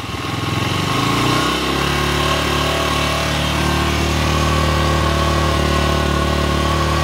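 A Skygo King 150cc motorcycle engine runs up close during carburetor tuning. It holds a steady, fast mechanical drone, and the revs shift partway through before settling into an even, loud hum.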